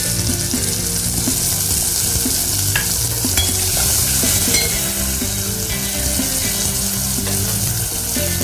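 Tomatoes tipped into onions frying in a pan for a traditional Maharashtrian okra curry (bhendiche alan), giving a steady, close sizzle with continuous stirring and scraping throughout.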